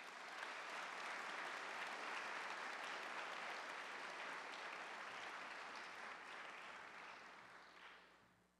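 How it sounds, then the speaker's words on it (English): A convocation audience applauds colleagues at the Mustang Business Park, a dense, steady wash of clapping that holds strong for several seconds before thinning and fading out near the end. "Let's pause and give our colleagues who are at the Mustang Business Park a big round of"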